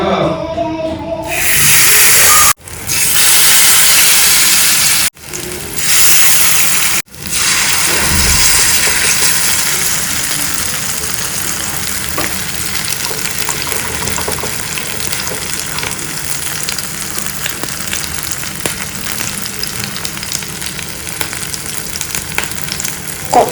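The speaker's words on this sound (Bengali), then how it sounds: "তেল গরম হয়ে গেছে, এবার দিয়ে দিচ্ছি।" Pumpkin leaf fritters fry in hot oil, a loud, steady sizzle and crackle that runs throughout, broken by a few brief gaps near the start.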